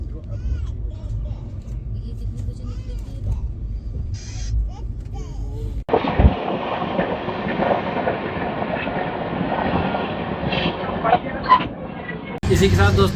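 Pushpak Express pulls away from Bhopal Junction at night: a quiet interior hum, then a steady roar of wheels and rushing air with occasional rattles and knocks.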